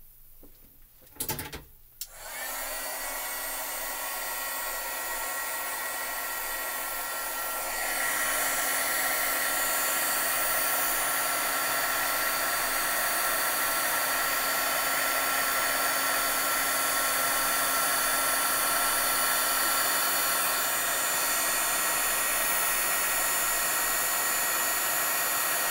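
After a couple of clicks, a heat tool starts and blows with a steady, loud whirring hiss over an alcohol-painted stamped image, growing slightly louder partway through and running continuously.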